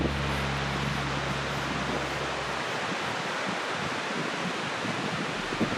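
Ocean surf rolls in at Cox Bay Beach near Tofino at sunset, a steady broadband wash of breaking waves with wind buffeting the microphone early on, continuous and fairly loud throughout.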